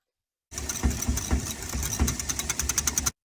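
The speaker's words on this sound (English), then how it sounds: "let's just whisk that together" Salt and lemon juice dressing whisked in a bowl, a quick steady run of light clicking, tapping strokes close by, rising into a faster rhythm toward the end.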